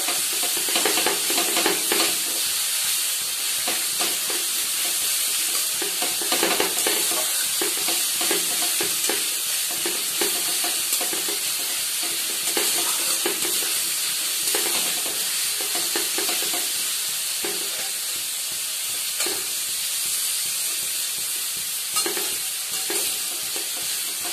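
Sliced onions fry in oil in a pan, giving a constant bright sizzle broken by repeated scrapes and knocks of a spoon stirring, close and even throughout with no voices.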